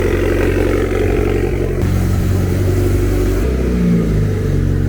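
A car engine runs close by with a steady idle rumble and slight revving shifts partway through, loud and with no voices over it.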